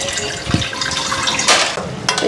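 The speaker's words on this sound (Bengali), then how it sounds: "জলটা ভরতে থাক।" Tap water pouring into a cooking pot for rice in a home kitchen: a continuous splashing rush, close and fairly loud, with a few small knocks.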